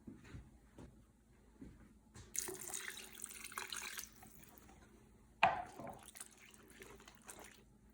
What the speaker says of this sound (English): you can add a little bit more water until it covers